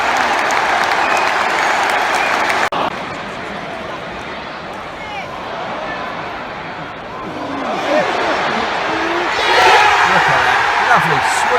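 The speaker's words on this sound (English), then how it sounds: "The crowd going mental." A stadium crowd roars and applauds after a Declan Rice goal in West Ham's win over Arsenal, a loud sustained wash of cheering that dips briefly after a sharp cut and then swells again near the end.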